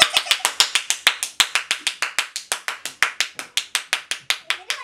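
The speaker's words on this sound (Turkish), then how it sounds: "Büyük bir alkış." A single pair of hands claps close and crisp to welcome a guest onto a set, around two dozen sharp even claps in a quick steady rhythm with nothing else behind them.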